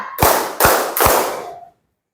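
A classroom of students gives three sharp, loud group claps in an even rhythm during a clapping game, each clap a short burst that decays briefly, followed by silence.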